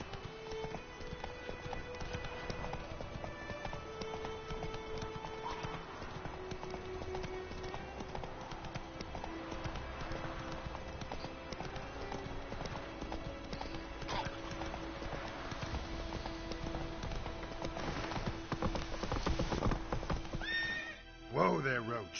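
Roach, the horse in The Witcher 3: Wild Hunt, gallops with steady clip-clop hoofbeats and lets out loud whinnies. A voice speaks over the hooves and game music.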